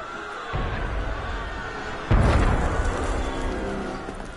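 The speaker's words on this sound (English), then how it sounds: "That was cannon fire." Cannon fire booms in the video game Assassin's Creed Unity: a dull thump followed by a louder, heavy blast that rumbles and fades slowly over ambient game sound.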